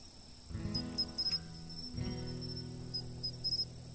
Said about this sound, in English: Back at home there were a ton of crickets.